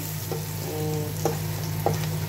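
Onions frying in a pan for a river baila fish curry, a steady soft sizzle with a low hum underneath and a few faint scraping stirs.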